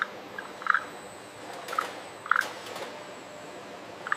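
Frogs croak inside a frog leather processing factory, giving short, bright calls at irregular intervals against a steady mechanical hum, with occasional clicks and no voices.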